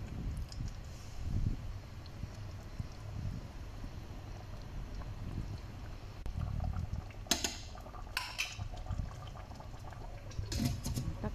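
Arabic chicken curry with coconut-milk broth simmering in a covered pot, a soft continuous low bubbling and patter with a few brief brighter clinks near the end, steady and close with no talk.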